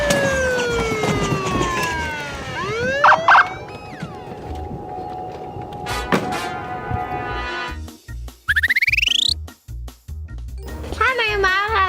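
A police siren wails with rising and falling sweeps during children's play with Power Wheels monster truck toys, broken by short pauses and beeps, while voices talk throughout.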